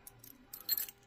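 A small bunch of keys for a new Emhart lock cylinder jangles briefly and quietly close by, a couple of light metallic rattles with no talking.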